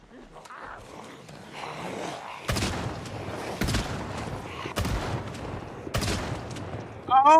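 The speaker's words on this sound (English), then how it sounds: "using a shotgun. And, you know, shotguns are loud" Shotgun blasts in a zombie video game, four loud booming shots spaced about a second apart, with a voice talking faintly underneath.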